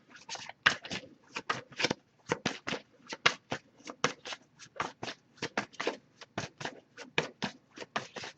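Tarot cards riffled and shuffled in a quick, steady rhythm of crisp flapping bursts, close up, with no talking.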